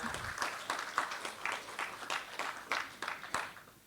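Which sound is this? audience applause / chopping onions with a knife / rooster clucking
audience applause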